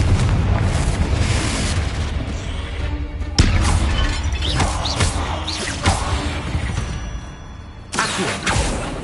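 In Hogwarts Legacy, Confringo blasting spells set off heavy booming explosions with crashing debris, several hits landing one after another over a rumbling, busy game soundscape.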